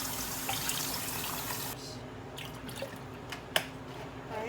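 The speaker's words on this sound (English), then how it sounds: "we're going to just keep rinsing it until it starts to run clear again" Tap water running and dripping into a sink as pork chops are rinsed after sitting in sour orange juice, a steady splashing wash that eases off midway into scattered drips and small splashes.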